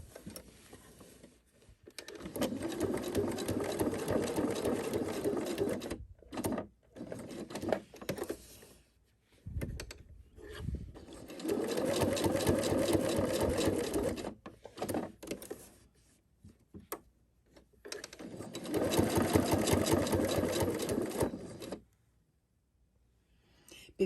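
A sewing machine stitches a quilt block using all-purpose thread, a 90/14 needle and stitch length 2. It runs in three steady bursts of several seconds each, separated by short pauses.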